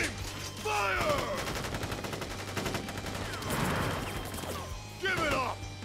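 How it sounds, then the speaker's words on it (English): Soldiers fire a rapid gunfire volley during an invasion battle in Crisis Core Final Fantasy VII Reunion, dense crackling shots in bursts with brief gaps, loud and close, with shouted voices and game effects around them. "Ready, aim, fire!"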